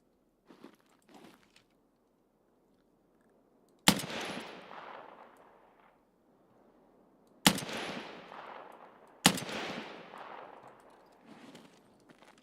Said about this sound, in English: Because shooting this gun will get you killed